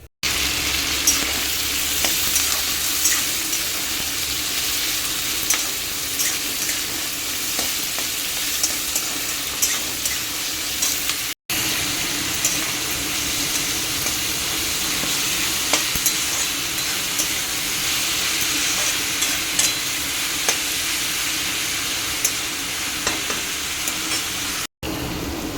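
Cauliflower stalk chorchori fries in a pan under a continuous close hiss and sizzle, with faint scrapes and taps of stirring scattered throughout the long stretch and no one speaking.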